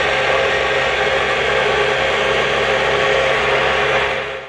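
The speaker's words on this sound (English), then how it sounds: "with the mixer on, when I tighten these screws, you'll hear the motor slowing down" Electric motor of a KitchenAid tilt-head stand mixer whirring steadily and loudly up close, holding a constant hum before tapering off at the end.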